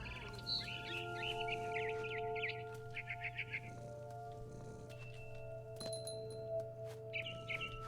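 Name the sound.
barn swallow chirping, from video game What Remains of Edith Finch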